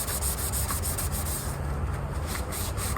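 Sandpaper lightly scuffs Subaru WRX aero parts such as a diffuser, spats and spoiler, a steady close rubbing hiss with faint rhythmic strokes.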